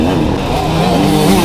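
Small-bore dirt bikes fly past during a GNCC off-road race at Tomahawk, their engines forming a loud, steady, buzzing drone that sits close throughout.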